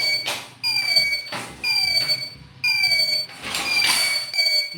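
Repeated electronic beeps from a smart helmet project fitted to a bike, sounding in a steady on-off rhythm of four bursts, close and fairly loud, as the bike refuses to start without the helmet on.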